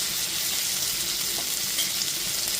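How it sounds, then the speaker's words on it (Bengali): Ginger paste is stirred into softened tomatoes frying in oil for chana dal, making a steady close sizzle with faint scraping of the stirring, and no voices. "আদা বাটাটা দিয়ে দেওয়ার পর খুব ভালো মতো একটু মিশিয়ে নিলাম।"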